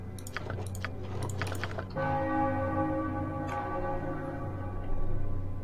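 A ritual bell rings in Baldur's Gate II: Throne of Bhaal, one sustained metallic strike that hangs and fades slowly under a low ambient drone, with a few quick clicks just before it.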